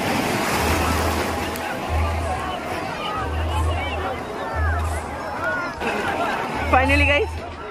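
Ocean waves break on the beach at Digha in a continuous rolling wash of surf, with crowd chatter and voices mixed in throughout.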